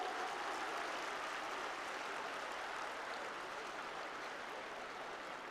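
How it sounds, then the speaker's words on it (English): A large seminar audience of schools and participants gives a round of applause, a steady dense wash of clapping that holds evenly throughout, with no talk over it. "Can we have a big round of applause for all the schools, all the participants?"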